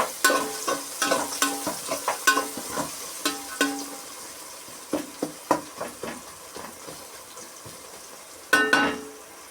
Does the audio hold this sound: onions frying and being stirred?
yes